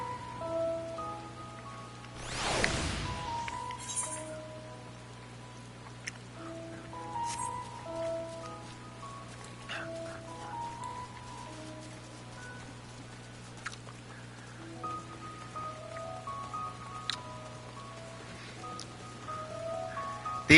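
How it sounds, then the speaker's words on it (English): Soft, steady rain patter in the video game Final Fantasy XIV Endwalker, faint and continuous, with a brief whoosh early on and light musical tones beneath. "They even make it rain down here?"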